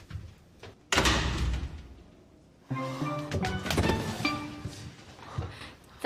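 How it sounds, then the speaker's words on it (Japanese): A door in a Japanese drama bangs with a sharp thud, then a second burst of clattering impact follows amid scattered knocks, fairly close and with no talking. "ドア！"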